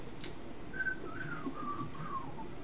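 A person whistles a wavering melody, slightly unsteady and breathy, with gliding pitch across several notes over a low background hum.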